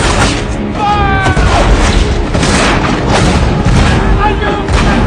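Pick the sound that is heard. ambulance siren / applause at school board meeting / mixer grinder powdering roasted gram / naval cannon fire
naval cannon fire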